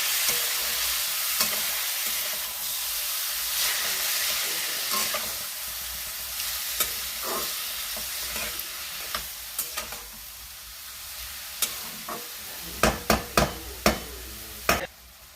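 Small cut mutton pieces frying in plain oil in a karai, a strong continuous sizzle that eases slightly over time, broken by sharp clacks of a spatula stirring, clustered near the end, with no one talking.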